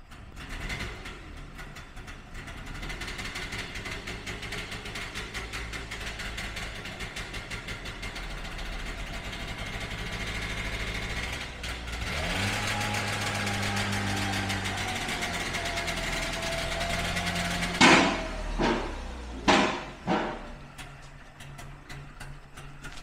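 A Trabant's small engine runs steadily throughout, with a low uneven chugging; the pitch shifts midway as if revving, and a few sharp knocks or clunks stand out near the end.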